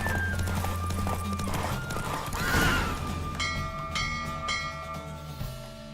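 Rapid hoofbeats of a galloping horse in The Witcher 3 pound under loud music and chiming tones, with a brief whinny in the mix.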